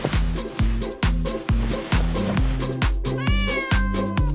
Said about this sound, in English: Let's distract the cat.